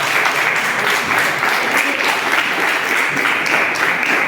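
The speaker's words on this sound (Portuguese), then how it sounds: "aplauda o nome do Senhor Jesus Cristo" A church congregation at a Sunday service applauds continuously, a loud, even roar of many hands clapping at once that holds steady throughout.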